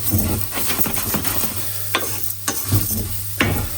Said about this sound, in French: Donc on va nacrer notre risotto.